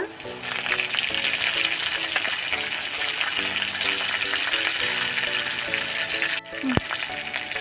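Green and red chilies with curry leaves fry in a pan of hot oil for a semolina breakfast, giving a loud, steady sizzle with stirring clatter throughout and a sharp clink near the end.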